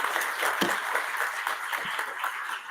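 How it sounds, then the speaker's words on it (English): An audience at a poetry recital event gives sustained applause, a dense even wash of clapping held at steady loudness. "Big applause for them."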